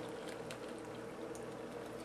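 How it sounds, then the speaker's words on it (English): Hot gulaman liquid being poured through a sieve into a bowl, a soft continuous trickle and splash of liquid with no talking. "I'm trying to strain this. A little bit hot. I'm straining this."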